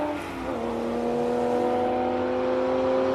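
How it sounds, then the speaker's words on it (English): Classic Porsche race car engine at the Simola Hillclimb, a loud, sustained high-pitched howl that climbs in pitch as it accelerates, holding strong and close for the whole stretch, with no talking. "that Porsche is sounding tremendous"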